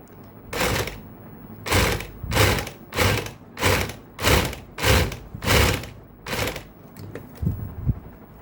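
A sewing machine stitches a summer cord clutch bag in eight short, even bursts of mechanical whirring and clatter, with brief pauses between them and no talking.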